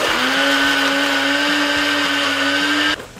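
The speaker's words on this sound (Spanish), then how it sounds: "Una licuadora, las galletas, nuez y canela. Muy bien. Nuez, galletas y canela. Y se licúa todo esto." A kitchen blender whirs loudly and steadily as it grinds cookies, walnuts and cinnamon, a constant high motor drone for about three seconds before cutting off abruptly.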